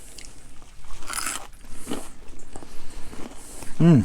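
Several loud, close crunches of bitten dried cheese crackers, followed by chewing, with a brief voiced sound at the end.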